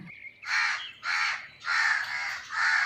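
Crow cawing in a Hindi cartoon, four harsh, drawn-out caws in a steady rhythm, loud and close with short pauses between them.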